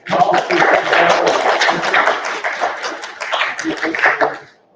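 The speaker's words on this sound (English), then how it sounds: "Round of applause, everyone." Audience applause after a guest speaker's presentation at a WiFi hacking workshop, a dense burst of clapping for several seconds with light chuckles and voices mixed in, then fading out.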